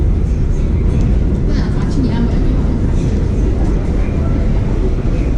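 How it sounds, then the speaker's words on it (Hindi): A Shanghai metro train pulls into a station with a loud, steady rumble and rolling rail noise close by, while someone talks over it. "ये दूसरी ट्रेन फिर आ गई इधर पे"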